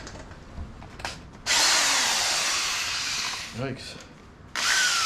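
Power drill spinning over an old barn-find generator: a loud sustained whirring run of about three seconds, a brief pause with knocking, then the drill starts again, with a short spoken exclamation early on.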